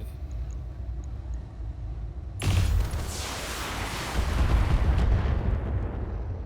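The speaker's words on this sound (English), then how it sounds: "I can fire my AC-5." An AC-5 autocannon fires in the mech combat video game BattleTech, a sudden heavy boom that cuts through quiet ambience and rolls into a long rumbling, crackling blast with a second swell moments later.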